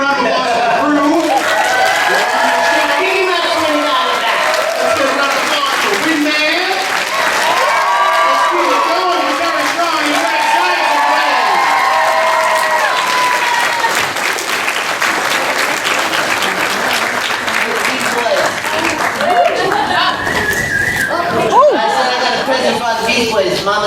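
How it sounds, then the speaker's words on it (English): An audience at a fan expo in Toronto applauds the crew, a loud, sustained wave of clapping mixed with cheers, chatter and some laughter that carries on at full strength for over twenty seconds. "let's get a round of applause for the crew"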